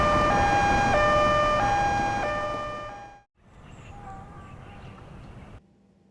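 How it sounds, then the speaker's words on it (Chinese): An ambulance siren wails in an alternating two-tone pattern, loud and sustained, then fades out and drops away, followed by a quieter stretch of background noise. "马上派辆救护车"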